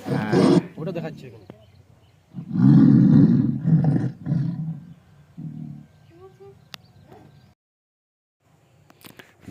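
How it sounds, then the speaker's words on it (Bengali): A tiger at the Jharkhali forest department's tiger rescue centre in the Sundarbans roars close by in several deep, rough bursts with pauses between them, while people talk nearby. "হ্যাঁ বাঘ আসছে"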